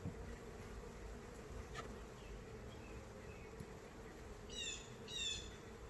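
Honeybees buzz steadily around an open hive during an inspection, a dense close hum filling the whole stretch, with a few brief chirps from birds nearby.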